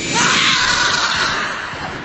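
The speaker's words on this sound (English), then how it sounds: "I heard that scream from over here" A harsh, noisy scream erupts in the Call of Duty Ghosts Infected game mode, loud at first and then tapering off over two seconds.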